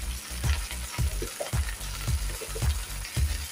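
Jute leaves with salt and green chillies cook in a pan, a low sizzling with regular soft stirring knocks roughly every half second, close by and with no talk.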